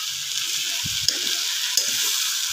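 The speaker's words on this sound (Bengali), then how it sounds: "আমি একটু নাড়াচাড়া দিই।" Potatoes and egg fry in a pan, a steady bright sizzle with soft scraping and two light clicks as they are stirred, close and without talk.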